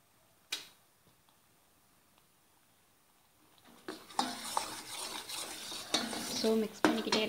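Puffed rice mixture stirred in a pan for a pori urundai sweet, starting near-silent after a single knock, then building into dense, busy scraping and rustling with clinks of a spoon against the pan.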